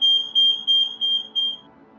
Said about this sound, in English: That's my house fire alarm.